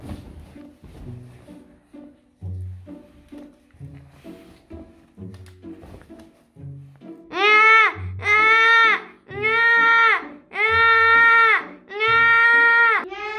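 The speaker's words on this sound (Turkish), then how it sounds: "salondan bir bebek sesi geliyor." A baby wails loudly in long, repeated rising cries, close by, after a stretch of quieter shuffling and thumps in a room.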